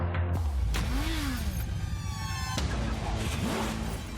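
Heavy road traffic with car engines revving and accelerating close by, vehicles sweeping past and a siren-like wail rising briefly, all loud and continuous.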